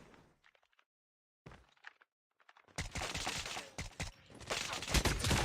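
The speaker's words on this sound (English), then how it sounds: "Able to get 1 headshot with the SKS and get out of there." Rifle shots from an SKS ring out in a competitive shooter match, starting with a few faint cracks and shuffles, then turning into loud, rapid, overlapping gunfire that fills the last few seconds.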